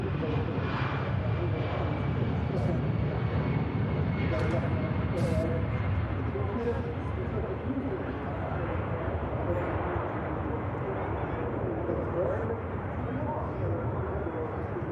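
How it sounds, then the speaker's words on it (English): An EasyJet airliner climbs away from Manchester Airport, its jet engines a broad steady roar that holds at a moderate distance throughout, with people talking over it. "Positive climb, and the gear goes up on the EasyJet."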